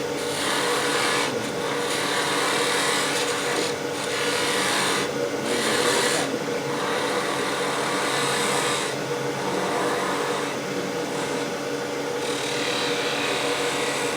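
Hand carving tool pushed through a wooden workpiece, cutting with a steady scraping rasp that runs continuously and fairly close, with brief pauses between strokes.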